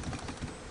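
Rapid keystrokes on a computer keyboard while entering a login email address, a brief steady patter of clicks heard up close with no talking.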